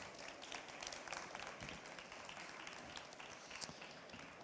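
Steady, fairly faint applause from a conference audience at the RENT 2024 social and environmental impact pitch final, dense overlapping claps continuing throughout with no break.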